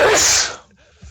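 A single sharp human sneeze, loud and close, bursting out at once and fading within about half a second into quiet room tone.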